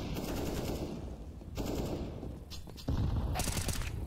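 Rapid bursts of gunfire in Counter-Strike on the Inferno map during a FaZe versus Virtus.pro match, loud close automatic fire in several short volleys, with a heavier burst near the end.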